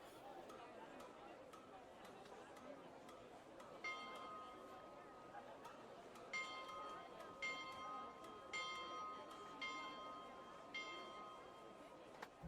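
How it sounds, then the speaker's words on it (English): A bell rings several times in a Star Trek Artemis play session, sounding as bright, repeated tones over a steady murmur of background chatter. "There's your bell again, Captain."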